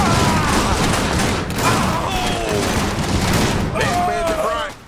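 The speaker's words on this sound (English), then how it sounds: "Equipped with semi-automatic shotguns, they are effective against unarmored targets at short range." Rusviet Vanguard infantry firing semi-automatic shotguns in the Iron Harvest strategy game, a dense, continuous spread of battle gunfire and booms with overlapping shots, loud and close, mixed with whistling effects and a voice.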